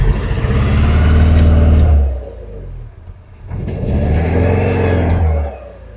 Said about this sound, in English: When you get in the car, you sort of realise how badly it's running.